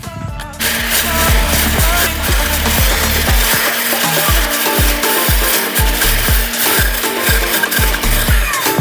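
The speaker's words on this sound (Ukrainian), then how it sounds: "Без ніякого напрягу скошує ось такі молоді пагони" A GTM 56V cordless hedge trimmer buzzes close by as it cuts young shoots, its blade chatter broken by a quick series of rhythmic snips and loud rasping bursts.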